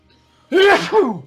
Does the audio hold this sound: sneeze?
yes